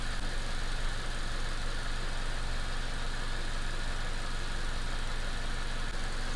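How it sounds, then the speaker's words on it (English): A car engine idles steadily while the battery voltage is checked during a jump start, a constant close rumble with even vibration and no speech over it. "The car engine is running"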